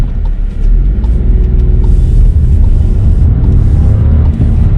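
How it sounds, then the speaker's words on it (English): A 2020 Volkswagen T-Cross SUV doing a handbrake turn, heard as a loud, continuous low engine and road rumble from inside the car, steady throughout with no clear tire squeal. "now it's time for my turn for the handbrake contest."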